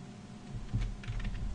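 Typing on a computer keyboard while writing Scala code, a short run of soft, close key clicks over a faint steady hum, with no talk.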